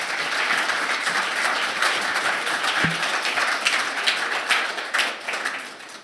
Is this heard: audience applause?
yes